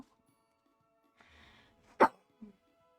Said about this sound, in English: now this cough won't go away